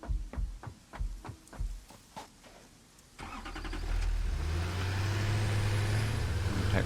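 A vehicle in the Satisfactory video game: a few rhythmic knocks, then an engine that starts up and holds a loud, steady rumble as it drives off.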